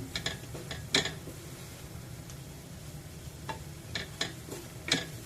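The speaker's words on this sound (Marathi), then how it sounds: "हे सुद्धा आपल्याला मंद आचेवर परतून घ्यायचे। मसाल्यांमधला कच्चेपणा जाईपर्यंत आपल्याला परतून घ्यायचं आहे।" Spices and asafoetida sautéing in a pan over a low flame for a tamarind and prawn dish, a soft, quiet sizzle broken by intermittent scraping and stirring clicks, with no talking.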